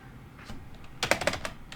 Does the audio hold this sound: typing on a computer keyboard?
yes